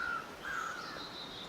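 Crows caw in The Long Dark, two short calls near the start against a steady, fairly loud wind-like background and no talk.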